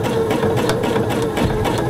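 A sewing machine zigzag-stitches over a piece of cording on a quilt, a steady fast mechanical whirr with rapid even needle pulses, close and continuous with no talk.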